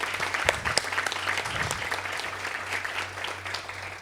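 An audience at a mental health summit panel claps warmly, a dense steady round of applause that holds for several seconds at a moderate level and then tapers slightly.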